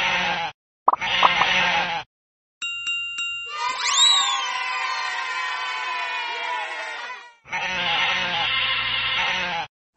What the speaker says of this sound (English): Oh no, all the sheep have escaped.